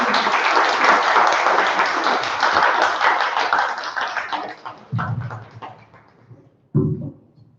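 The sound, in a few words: audience applause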